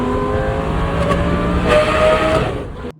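Lamborghini supercar with a sport catalytic converter revving hard through a tunnel, a loud echoing engine howl rising and falling through the gears before cutting off abruptly at the end.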